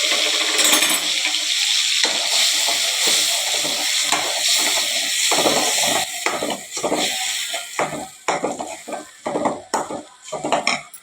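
Onion paste sautéing in a pan for an okra curry, a steady sizzle with repeated scraping and stirring strokes that grow more pronounced and rhythmic toward the end.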